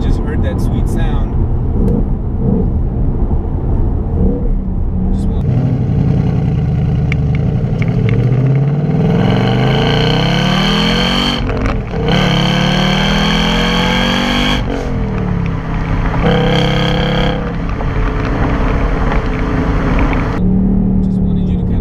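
A 2018 Ford Mustang GT with a manual transmission and louder factory exhaust revs and accelerates, its V8 note rising and falling through several loud pulls with no talking over it.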